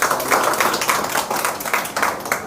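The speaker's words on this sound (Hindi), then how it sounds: "ताली बजाओ जरा, बहुत ही शानदार" A small group of people clap in a quick, uneven flurry of close hand claps that keeps going throughout, with no one speaking over it.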